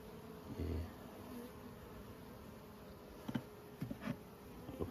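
Honey bees buzz steadily around open four-frame nucleus hives being fed sugar syrup, a close, continuous insect drone with a few brief louder knocks and handling sounds.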